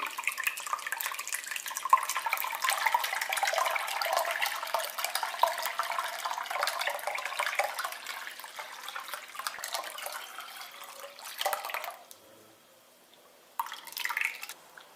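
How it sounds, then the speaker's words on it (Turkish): Homemade orange-lemon lemonade strains through cheesecloth, giving a steady close trickle and patter of dripping liquid for about twelve seconds, then it thins to near quiet with a brief final splash of drips. "hazırlamış olduğum limonatayı tülbentten süzüyorum"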